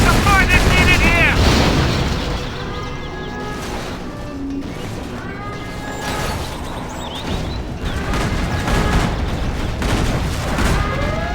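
Gunfire and explosions in a battle from C&C Generals Zero Hour: rattling shots and booming blasts layered densely and continuously, with game unit voices speaking over the fighting.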